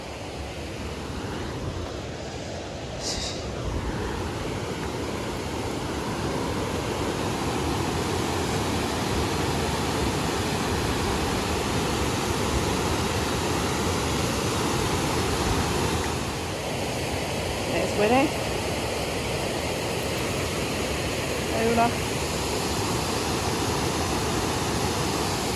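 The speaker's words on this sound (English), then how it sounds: "made it to the waterfall." A steady, broad roar of falling water fills the whole stretch, constant and moderately loud, with a few faint knocks near the end.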